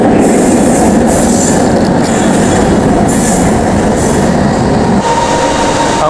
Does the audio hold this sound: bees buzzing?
no